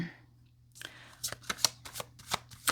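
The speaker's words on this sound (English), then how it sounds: "Let's give it a shuffle." Tarot cards are shuffled by hand, a quick run of crisp riffling bursts after a short quiet start, close and fairly soft, with no talking.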